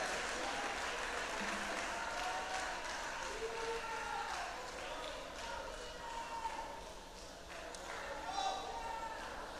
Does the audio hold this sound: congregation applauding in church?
yes